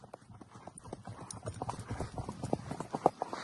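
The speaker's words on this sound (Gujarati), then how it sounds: "હાઈ ક્લાસ ઘોડીને ડાબા વાગે છે" A mare's hooves clip-clop along a farm track in rainy season, a close, steady walking rhythm of sharp knocks that grows a little louder toward the end, heard alone.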